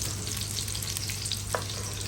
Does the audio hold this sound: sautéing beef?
yes